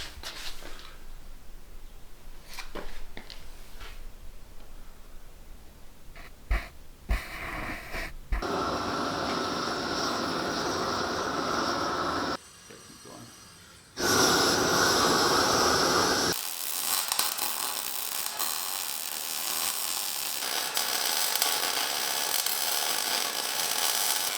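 Torch heating the center section of a Dana 60 front axle during a full Artec build, heard as a steady roaring hiss that switches on and off in long blocks after some clanks of shop handling.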